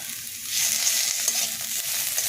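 Ginger and garlic paste fries in hot oil with lightly browned onions for potol chop, giving a steady close sizzle that swells after the first half second and then holds, with no talk.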